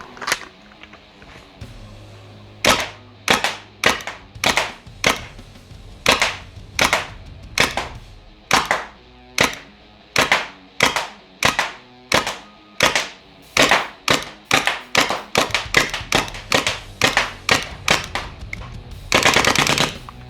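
MILSIG M79 foam dart blaster firing Worker Gen 3 darts, a long steady run of sharp popping shots about one per second, close and loud, with a brief hissy burst near the end.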